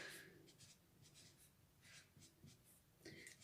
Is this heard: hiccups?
no